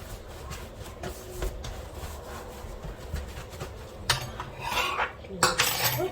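Pastry dough being cut into small pieces: a steady run of scraping, rubbing and light tapping of a blade against a work surface, growing louder and harsher toward the end.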